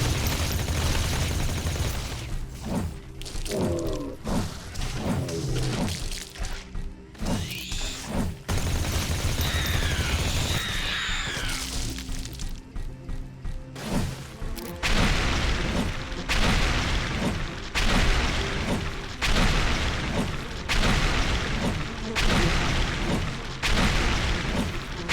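Rapid minigun bursts and heavy booming explosions from a five-meter mech suit battling creatures in The Riftbreaker video game, loud and sustained with dense rattling fire and repeated blasts.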